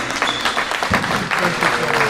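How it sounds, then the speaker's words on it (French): Crowd applause in a gym during a senior amateur basketball game, a continuous clatter of clapping with a commentator's voice and some shouts over it. "Les applaudissements."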